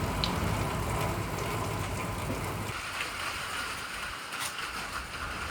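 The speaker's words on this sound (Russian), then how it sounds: "И ливень тоже." A heavy downpour with strong gusting side wind at a village house, a dense continuous hiss of rain that is loud at first and eases slightly partway through, with no talk.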